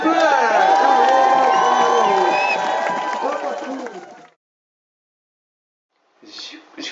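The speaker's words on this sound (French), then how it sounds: "L'applaudissement là, s'il vous plaît." Audience cheering and applause at a bal, a loud crowd of whoops and shouting voices with clapping that fades out after four seconds, then silence, then a brief murmur of voices returning.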